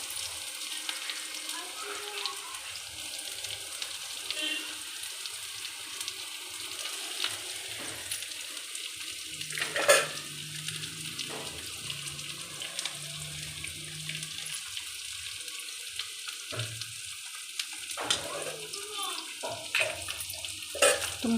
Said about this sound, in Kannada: ಇವಾಗ ಕಟ್ ಮಾಡಿರೋ ಹೀರೆಕಾಯಿ ಹಾಕ್ತಾಯಿದ್ದೀನಿ